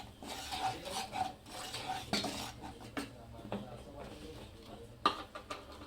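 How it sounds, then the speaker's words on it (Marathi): A ground onion, tomato and coconut masala paste is sautéed in oil in a pan for egg curry, with a spoon scraping and clinking against the metal in irregular strokes over a soft sizzle, while someone talks throughout. "आता ह्याला पण परतून घेते छान असं।"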